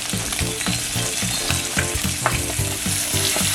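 Salmon frying in hot oil in a pan, a loud, dense sizzle heard up close and steady throughout, with faint rhythmic stirring or basting underneath and no voices.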